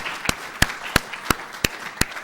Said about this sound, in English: please join me in applauding all 3 of